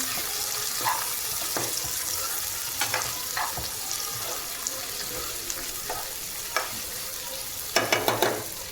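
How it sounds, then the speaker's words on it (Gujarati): Mixed vegetables sautéing in a pan with ginger-garlic paste, a continuous close sizzle broken by scraping stirs and clinks of a spoon against the pan, no talk. "આપણે નાખવાનું મિક્સ વેજીટેબલ. જે આપણે સાતરી નાખશું."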